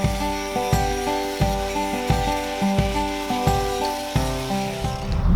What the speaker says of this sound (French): je vais enlever mon disque à tronçonner pour venir y mettre un disque abrasif et nettoyer un petit peu de métal au niveau des assemblages